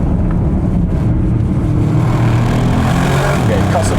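Bentley Continental GT at full throttle, with a steady, loud engine roar throughout that stays constant as the power is cut back, and a voice speaking faintly over it.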